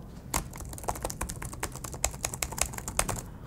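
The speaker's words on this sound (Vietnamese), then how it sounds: "Gõ nó cộc cộc cộc cộc ấy, gõ văn bản rất sướng" Rapid typing on the keyboard of a Dell Alienware m15 R3 laptop produces a dense, uneven patter of crisp key clacks, close and clear with no voices.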